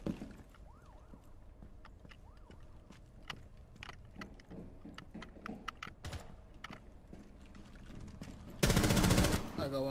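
Gunfire in the video game Rainbow Six Siege, with repeated sharp shots scattered through game noise and a loud, dense burst near the end, while players talk.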